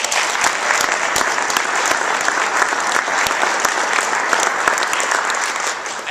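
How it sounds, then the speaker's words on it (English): Audience applause at an insurance association's annual convention, a sustained even burst of many hands clapping in a hall, loud and steady before fading slightly at the end. "We can give them a round of applause."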